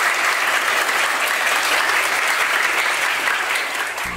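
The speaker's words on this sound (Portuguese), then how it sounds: "Palmas para vocês e para Jackson do Poder." Sustained audience applause at a documentary event honoring Jackson do Pandeiro, a dense, even wash of many hands clapping that holds steady for about four seconds and eases slightly at the end.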